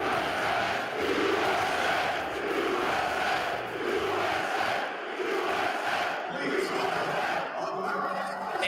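A crowd at a USA vs Canada hockey game erupts in a sustained, rhythmic chant that fills the arena steadily for several seconds, heard somewhat distantly as a dense mass of voices.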